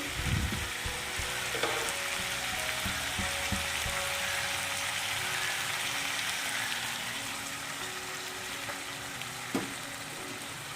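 Mustard seeds and a splash of water hit a hot pan and sizzle loudly and steadily, a dense crackling hiss that eases slightly over the span, with a few faint stirring taps and no talking.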